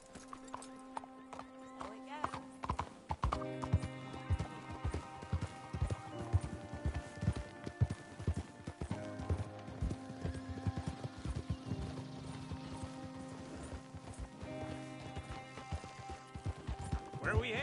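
Horse hooves clip-clop in a steady trotting rhythm during a ride in Red Dead Redemption 2, mixed with game ambience and other sounds across the whole stretch.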